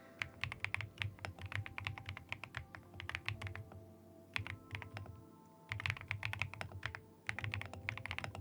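Steady typing on a thocky Marshmallow mechanical keyboard, with close, deep keystrokes arriving in quick bursts and brief pauses between them.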